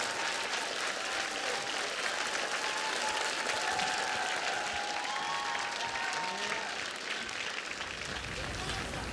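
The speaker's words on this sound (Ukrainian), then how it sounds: "Ваші оплески!" Audience applause at a TV singing show superfinal, dense steady clapping with some cheering voices and talk mixed in, sustained loudly throughout.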